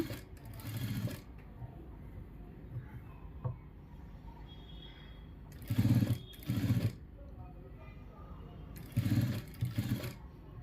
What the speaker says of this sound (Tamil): அந்த பைப்பிங் ஒட்டியே வந்துட்டு தையல் போட்டுட்டு வரலாம்